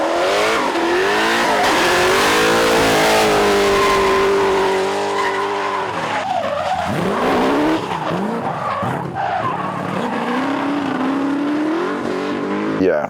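A hot rod car drifts on a race track, its tyres screeching loudly and continuously as the engine revs; the squeal wavers and shifts pitch before easing into rougher skidding noise toward the end.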